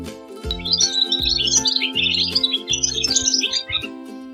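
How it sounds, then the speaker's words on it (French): Busy twittering of swallows on a farm, rapid bright chirps tumbling over one another, set against a steady tonal backdrop with soft low pulses. "Les hirondelles gazouillent en piquant l'air."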